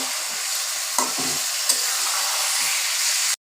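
Sweet, sour and spicy pickle being stirred in hot oil in a pan, a loud close sizzle with scraping spoon strokes, ending abruptly.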